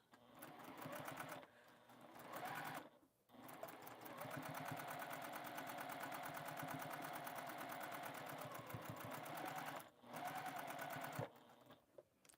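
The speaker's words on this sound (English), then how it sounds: "I will sew that one first" A sewing machine stitches quilt seams pressed in opposite directions, whirring in long steady runs of rapid needle strokes broken by a few short stops.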